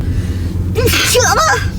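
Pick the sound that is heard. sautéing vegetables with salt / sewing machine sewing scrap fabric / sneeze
sneeze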